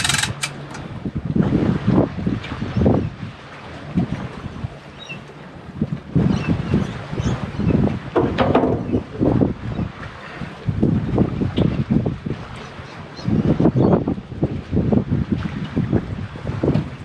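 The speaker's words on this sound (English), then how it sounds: "A little bit windy today" Gusty outdoor wind buffets the microphone in repeated loud rumbling bursts that rise and fall over several seconds, with no voices.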